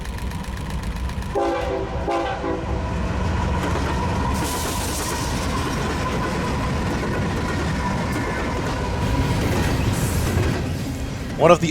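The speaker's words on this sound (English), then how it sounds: "One of the all-too-common BNSF intermodal stack trains makes its way through Fullerton on the middle track, track number 2" A BNSF intermodal stack train rolls through Fullerton on the middle track, a steady heavy rumble of wagons with a horn blast standing out early on, continuing loud and close throughout.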